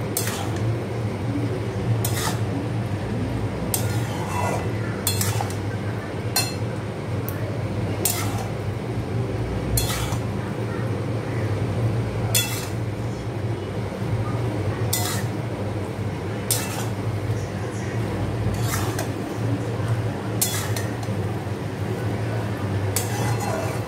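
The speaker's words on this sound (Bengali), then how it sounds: "এটাকে ভালো করে নাড়বো, চিজটা যতক্ষণ গলে না যায়" Pasta stirred in a pan with mayonnaise and cheese while the cheese melts, a steady utensil scraping and clinking against the pan at irregular intervals over constant background hum, without speech.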